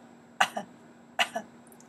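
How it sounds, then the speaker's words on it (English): A person coughs twice in a quiet room during a Chinese vocabulary lesson, each cough a sharp double burst, close and clear with silence between them. "I have to cough."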